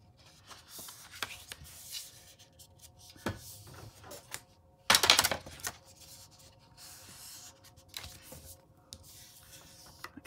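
A bone folder scores and creases paper for a small notebook, giving soft scraping and rubbing strokes, intermittent taps and one brief louder rustle midway, close and quiet without talk.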